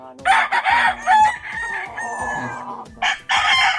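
A gamecock rooster crows loudly and close by on a fighting-cock farm, overlapping with other crowing and clucking fowl; no talking.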